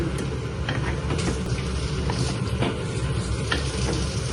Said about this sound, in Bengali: করে কষিয়ে নেব আমি ঝোল দিব না বেশি শুকনো শুকনো করে রান্না করব